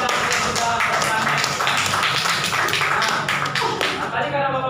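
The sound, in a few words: audience clapping for a student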